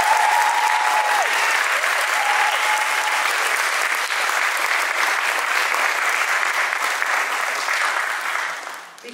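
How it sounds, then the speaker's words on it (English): A large crowd at a 2022 college award ceremony claps steadily for family and friends, with loud, continuous applause that holds for several seconds and then tapers off at the end. "would we give a round of applause to all of our family and friends who have supported our students."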